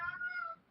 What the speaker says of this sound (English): Sorry, the cat is having a moment.